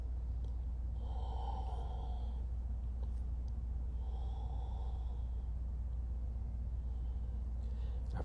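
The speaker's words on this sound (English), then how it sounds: "Take 2 more breaths." Slow, deep breaths during a power yoga class come in two long, airy swells, each lasting about a second, close and fairly quiet over a steady low hum.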